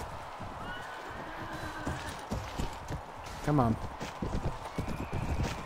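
Horse hooves clop in quick galloping beats during a tournament battle in the video game Mount & Blade: Warband, and a clear whinny rises midway; someone speaks briefly over the action.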